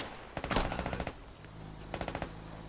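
Automatic gunfire in the video game Squad, two rapid bursts of evenly spaced shots separated by a short pause, fairly close and loud over a low steady background hum.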